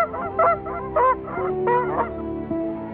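Geese honking in Chesapeake Bay wetlands, several loud, close calls in quick irregular bursts, with a few overlapping harsh honks standing alone without voices.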